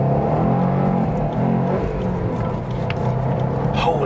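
A Subaru WRX STI pulls away hard from a red traffic light in Sport Plus mode, its engine a loud, continuous roar that rises steadily with no voice heard over it.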